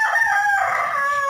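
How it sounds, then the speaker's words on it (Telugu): A Kadaknath rooster crows loud and close, one sustained drawn-out call with a falling tail, alone without talk. "కడక్నాథ్"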